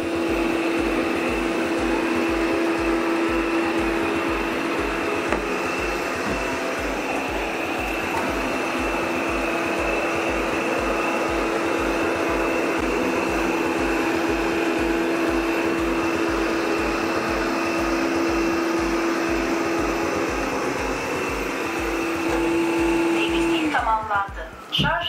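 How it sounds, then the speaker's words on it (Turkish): A Lydsto R1 robot vacuum cleaner whirs steadily and loudly at maximum power for a long stretch, with a constant motor hum, rhythmic low pulsing and a faint steady tone on top. "maksimum seviyede olmasına karşın süpürgenin sesi gerçekten hiç rahatsız edici boyutlarda değil"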